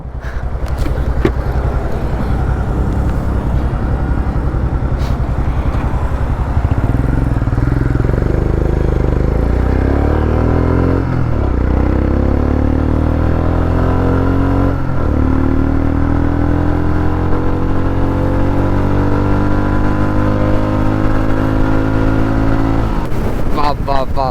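A Royal Enfield motorcycle rides along on a solo weekend trip, its engine a continuous loud thrum with a rising and falling pitch and heavy wind rush throughout.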